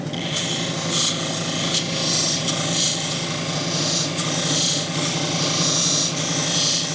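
A lapidary polishing wheel grinds against a piece of petrified wood, giving a steady, close rasping and rubbing hum with a low motor drone underneath that holds for the whole stretch with slight swells.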